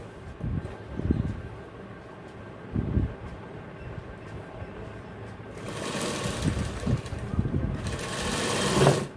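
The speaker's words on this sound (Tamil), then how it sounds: "இப்போ மேலே ஒரு தையல் அமுக்கடி தையல் போடுறேன்." A sewing machine runs a topstitch along the waistband of a pair of gents' trousers in a tailoring shop, whirring in short bursts and then in a longer, louder continuous run, with a voice talking over it.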